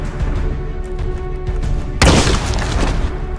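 In the Tactical Assault VR game, a flashbang and a frag grenade go off indoors: one sharp, loud burst lands midway over a background of steady game noise and rumble.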